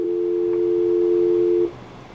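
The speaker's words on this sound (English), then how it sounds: "it just briefly checked for dial tone when I turn that on" A steady telephone dial tone, checked by a Motorola AlphaMate paging terminal, hums for about a second and a half, then cuts off, leaving faint background hiss.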